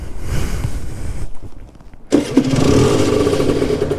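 A motorcycle left unused since the summer is cranked, goes quiet for a moment, then catches and settles into a loud, steady running engine close by.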